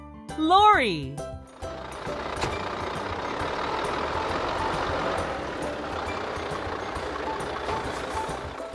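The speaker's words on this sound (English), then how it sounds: "Lorry." A lorry engine runs steadily at close range, a broad continuous rumble that holds at an even level after a brief sung tone at the start.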